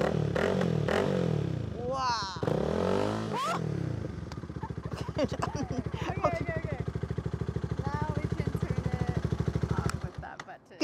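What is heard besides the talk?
Honda Rebel motorcycle riding off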